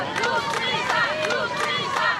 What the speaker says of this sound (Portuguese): A advogada de defesa Ana Lúcia Assad foi vaiada.